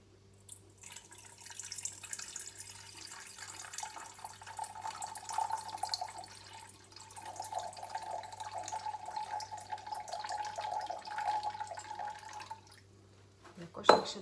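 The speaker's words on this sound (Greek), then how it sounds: "Βάζουμε 260 γραμμάρια νερό." About 260 grams of water poured into a bowl for sourdough bread, a steady close trickle running for several seconds, then a short clatter at the end.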